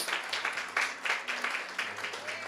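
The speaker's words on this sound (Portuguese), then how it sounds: "Podem aplaudir ao Senhor" A church congregation applauds together in steady, dense clapping that swells in rhythmic waves, with faint voices mixed underneath.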